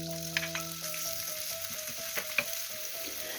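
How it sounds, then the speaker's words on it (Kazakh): Minced meat and chopped onion sizzle steadily in a frying pan as a pirozhki filling is cooked, a soft continuous crackle with a few stirring clicks beneath gentle background music. "Етті, пиязды осылай табада кішкене қуырып аламыз."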